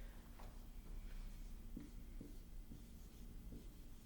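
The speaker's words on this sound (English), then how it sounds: "Letter B, let me write this." Faint, quiet strokes of writing on a board during a math lesson, a few short scratchy marks spaced about half a second apart over a low room hum.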